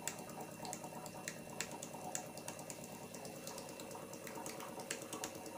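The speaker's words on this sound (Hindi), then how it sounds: "मोटर चलने का साउंड सुनाई दे रहा है आपको" Kent RO water purifier with its motor switched on: a faint, steady mechanical hum with quick, irregular clicking and light water trickling over it, heard close up and without talk.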